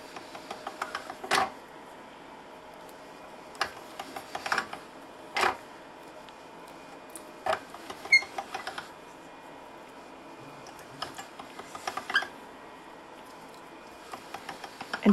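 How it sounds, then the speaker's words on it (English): A pasta machine rolls polymer clay into a thinner sheet, giving faint, irregular clicks and light ticks over a quiet background. "Now I'm going to go a little bit thinner on my pasta machine."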